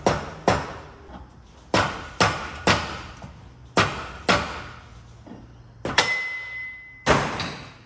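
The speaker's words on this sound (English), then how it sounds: "with the rubber mallet. Just tap the wheel here off." Rubber mallet blows tapping a wheel off a Ford Falcon's differential in a workshop: about a dozen sharp, close knocks in an irregular rhythm, each ringing briefly, with no voices.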